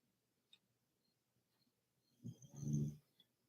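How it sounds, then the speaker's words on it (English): A dog snores softly in a quiet room, one low rumbling breath rising and fading, with faint ticks around it. "She's snoring away."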